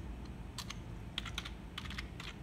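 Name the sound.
typing a fastboot command on a computer keyboard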